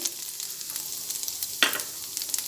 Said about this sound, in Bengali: আদাটা কাঁচার গন্ধটা না বেরোয় সেই জন্য আদাটা কিছুটা ভেজে নিচ্ছি